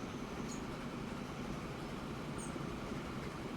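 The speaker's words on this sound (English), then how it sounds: "Probably gonna have to wait for this train to go by." A slow train rolling past in Transport Fever 2, a faint, steady low rumble of rail cars with a couple of brief high squeaks, heard from a distance.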